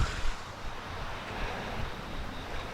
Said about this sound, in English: Get some nice river noises.